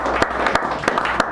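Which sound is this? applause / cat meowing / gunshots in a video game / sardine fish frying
applause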